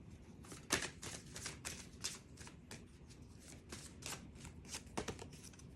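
Tarot cards being shuffled by hand in quick riffling bursts, close and soft, with a few sharper slaps of the deck and no voices.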